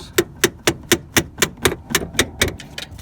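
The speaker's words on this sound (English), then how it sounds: "Get it off there with a hammer." Steady series of about a dozen sharp metallic knocks, evenly spaced and close, as a small kitchen hammer taps repeatedly on a metal steering part of a Ford F150.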